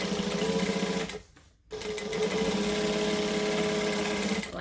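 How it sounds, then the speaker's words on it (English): Domestic sewing machine topstitching vinyl onto fabric, a fast steady mechanical whir with rhythmic needle chatter close by, briefly pausing before running again, no talking. "I'm going to push the vinyl down and top stitch along the fabric"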